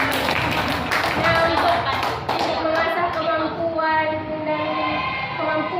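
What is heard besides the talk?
applause for the observers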